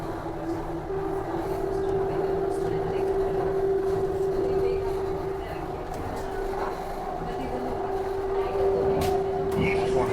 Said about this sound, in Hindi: तो अभी हमारी जो ट्रेन है वो कर्व ले रही है